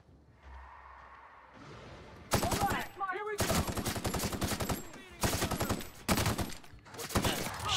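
Bursts of rapid, loud automatic gunfire from a powerful gun in The Outer Worlds, several sustained volleys separated by short gaps, preceded by quieter whooshing game sounds.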